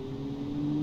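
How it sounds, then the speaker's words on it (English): A turbocharged fuel-injected 1980s fleet car accelerates, its engine drone holding a steady pitch that rises slightly and grows louder toward the end, close and continuous with no talk over it. "Nice acceleration."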